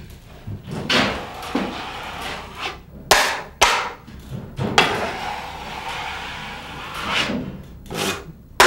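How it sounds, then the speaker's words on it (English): A drywall knife drags across joint compound on a drywall wall under heavy pressure. Close, rasping scrapes repeat in uneven strokes, with a few sharp knocks and taps between them, and no one speaks. "I ran that knife 6 feet and I've only taken off a very little bit of joint compound"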